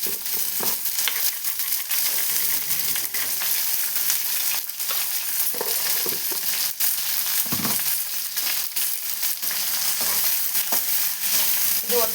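Onions with a little salt sauté in a pan, giving a continuous close sizzle broken by irregular scrapes and clinks as they are stirred, with no talking.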